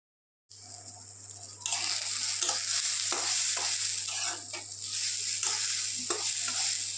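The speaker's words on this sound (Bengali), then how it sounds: "এখানে ডালটা ভাজা করে নিচ্ছি" Mung dal is dry-roasted and stirred in a hot pan, a steady rustling hiss with repeated scraping strokes of a spatula against the metal.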